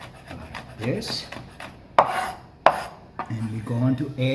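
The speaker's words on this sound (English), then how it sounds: "we have this garlic, and then we're going to chop this also up a little bit." Garlic being chopped with a knife on a cutting board, two sharp knocks stand out among lighter scraping and rubbing, close up, with a voice briefly heard near the end.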